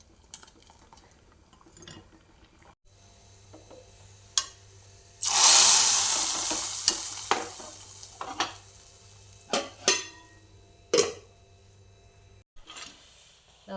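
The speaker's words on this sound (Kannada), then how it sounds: "ನಾನೀಗ ಸ್ವಲ್ಪ ಒಗ್ಗರಣೆ ಹಾಕ್ತೇನೆ." A tempering of spices goes into hot oil for a bitter gourd dish and sizzles in a loud burst, then fades into stirring and scattered clinks of a spoon against the pan, with no talking.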